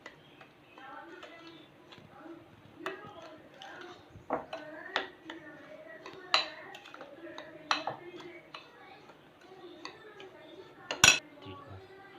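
Metal spoon scraping and clinking against a bowl while mixing hot ghee into a lentil powder, with irregular sharp taps and scrapes up close and one louder clang near the end.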